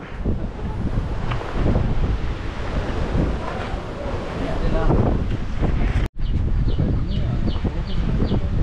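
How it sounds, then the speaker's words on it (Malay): Steady sea wind buffets the microphone on the shore at Pulau Mawar, Mersing, with surf rushing underneath; a loud, continuous roar that briefly cuts out, and no one speaks. "Angin dah sedap ni."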